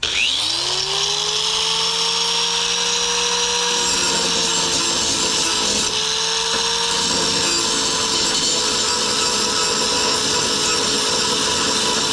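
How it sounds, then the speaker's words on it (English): A power grinder works steadily against the steel mower deck of a John Deere L130, a continuous loud whine with a shifting pitch that dips and recovers under load throughout. "let me grind it a little more. I don't want to bend that deck."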